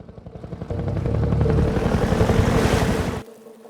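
Combat helicopter from Half-Life 2 roars in close and loud, its rotor chopping in a rapid thudding pulse that swells over about three seconds and then cuts off abruptly.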